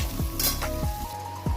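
Onion frying in hot mustard oil, close crackling sizzle with a few quick spatula scrapes against the pan.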